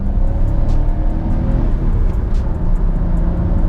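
A Hyundai Kona hatchback accelerates in second gear, its engine giving a steady, loud drone with road and wind rumble heard from inside the cabin.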